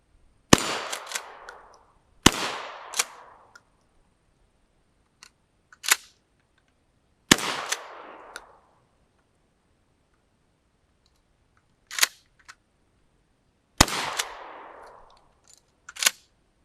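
A Mossberg 500 pump-action shotgun fires at six targets: several loud, sharp blasts with echoing tails, spaced seconds apart, interspersed with quieter mechanical clacks of the pump action, outdoors and alone without talk.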